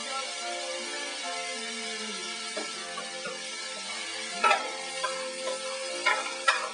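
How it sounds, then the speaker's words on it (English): Onions and garlic sizzle softly in a pot over low heat, giving a steady, even frying hiss with a few faint clicks and stirring scrapes near the end. "We've got onions and garlic working in there."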